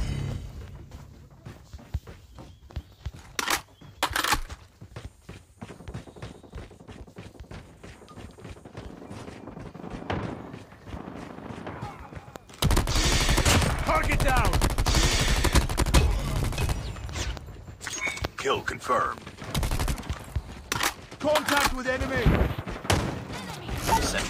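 Sentry gun firing in Call of Duty, sustained automatic gunfire that roars continuously through the middle and breaks into scattered bursts, with battlefield voices and footsteps around it.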